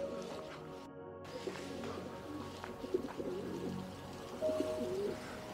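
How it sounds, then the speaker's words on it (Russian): Pigeons coo softly near an old church building in Nymburk, low repeated murmurs set against a faint background hum. "Голуби. Слышите, да?"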